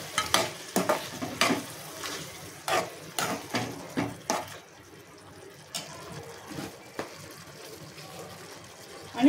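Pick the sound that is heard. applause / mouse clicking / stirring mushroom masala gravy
stirring mushroom masala gravy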